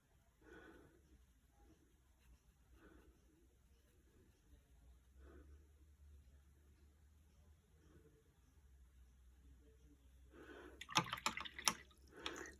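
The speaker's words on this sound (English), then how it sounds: "I'm trying not to be so aggressive with rinsing my paintbrush because I know how loud it is on the video" A paintbrush being rinsed in a water jar during watercolour painting, soft swishing and dripping at first, then a louder burst of sloshing and clinking near the end, all close and otherwise quiet.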